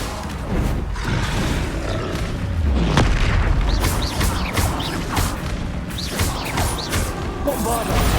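Bombarda blasting spells going off in the Hogwarts Legacy video game, a dense stretch of repeated booming explosions and crashes over a continuous battle roar, loud and close with no pauses.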